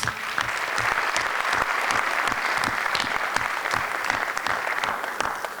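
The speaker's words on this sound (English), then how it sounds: "Let's give them applause" Loud, close audience applause at a candidates forum, brisk individual claps standing out within a steady crowd of clapping that continues throughout.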